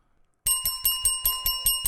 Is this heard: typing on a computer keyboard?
no